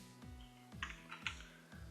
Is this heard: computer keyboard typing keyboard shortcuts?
yes